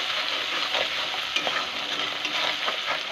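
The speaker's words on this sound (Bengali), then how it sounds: "সব মশলাগুলো ভালো করে কষে নিয়েছি" Ground spices (salt, turmeric, chili powder, coriander powder and Kashmiri chili) sauté in a pan for a pointed gourd and prawn curry, a dense continuous sizzle with repeated stirring scrapes close up, no talking.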